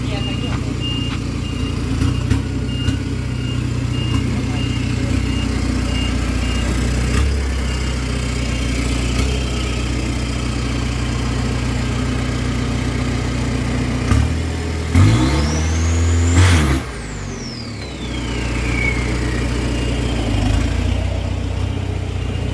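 A car driven on the way to the Chang race track, its engine droning steadily with one rising rev surge and gear change near the end, while someone talks over it throughout.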